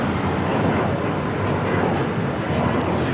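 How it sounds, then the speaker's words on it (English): An Alaska Airlines airliner taking off, a continuous broadband jet roar that stays loud and even throughout with no voices over it. "This is Alaska Airlines flight 1147 taking off to Seattle"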